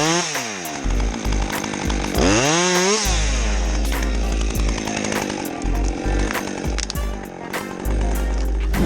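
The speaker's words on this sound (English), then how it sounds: "with the size of the blade on this chainsaw, it looks like it'd be a breeze to cut through big trees" A chainsaw with a large blade cuts through a big tree, its engine revving up and dropping in pitch with sharp bursts, then holding a loud, steady buzzing drone under the cutting.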